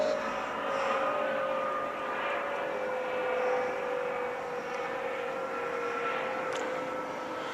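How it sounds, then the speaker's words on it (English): A fixed-wing airplane drones overhead as one of frequent flights over a backyard, a steady engine rumble with a sustained tone that holds at moderate loudness throughout with no talking. "Just get inundated with airplanes every 10 minutes or 5 minutes."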